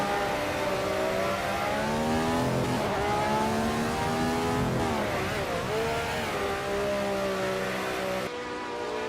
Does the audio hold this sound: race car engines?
yes